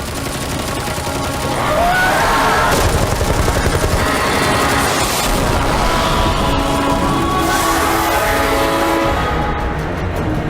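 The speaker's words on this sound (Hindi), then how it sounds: "गोलियां चलाते रहो।" Gunfire in a Hollywood snake movie dubbed into Hindi: dense, rapid bursts of shots rattle on loudly over a rumbling battle din for about ten seconds.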